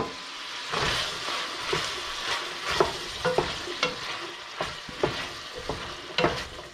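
Chopped yellow onion and apple sizzle in a hot pan, a steady frying hiss broken by scattered clicks and scrapes of stirring, close and moderately loud with no voices.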